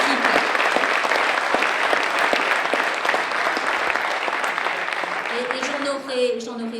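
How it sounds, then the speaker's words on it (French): Loud, sustained audience applause at a general assembly of French lawyers, a dense roar of many hands from a large hall that continues for several seconds before a voice begins speaking as the clapping fades. "Donc je vous remercie d'applaudir Monsieur le Président du Conseil national des barreaux"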